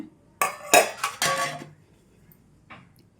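Oiled steel plates clink and clatter as they are handled, a quick cluster of three or four bright metallic knocks close by, then a pause and one softer clink; no talking.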